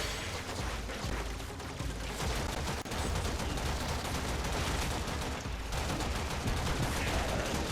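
Dense, continuous gunfire in the video game Warframe, a steady loud barrage of rapid shots with booming impacts that fills the whole stretch without a break.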